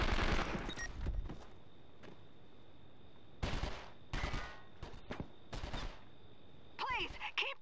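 Gunfire in the video game 24: The Game: several separate bursts of shots break out between quiet stretches, some sharp and near, mixed with game sound effects.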